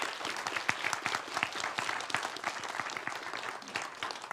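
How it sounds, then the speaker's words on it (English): Audience applause closing a talk at the code::dive 2024 programming conference, a dense, steady wash of many hands clapping close by that holds at an even level throughout. "Let's give another round of applause to Rafał."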